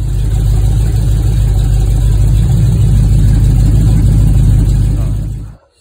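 A 1963 Pontiac Star Chief V8 held at high revs near 5,800 RPM, a loud, sustained engine roar that stays steady for several seconds and then cuts off abruptly at the end.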